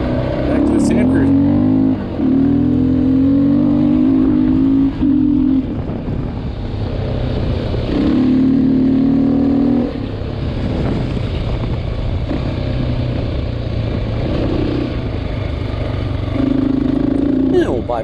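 A Honda XR600R dirt bike engine roars loud and close while riding through a desert sand wash, its revs rising and falling through repeated throttle surges and gear changes over rough terrain.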